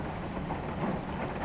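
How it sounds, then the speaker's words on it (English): Heavy rain pouring down hard under blazing sun, a dense, steady roar of falling water with a faint rumble underneath and no voices. "Yeah, it's pouring down rain hard."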